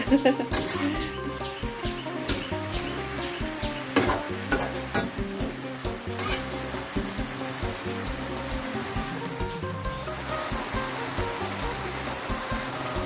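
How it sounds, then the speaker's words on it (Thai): Mixed vegetables with pork being stir-fried in a pan, with a steady loud sizzle throughout and a few sharp scrapes and clanks of the utensil as the food is stirred, and a faint voice in the background. "คนให้กระจาย คนให้เข้ากันก็ได้ค่ะ"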